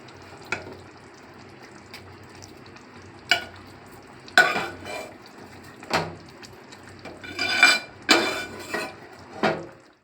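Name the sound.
cooked gongura leaves added and stirred into tomato chicken gravy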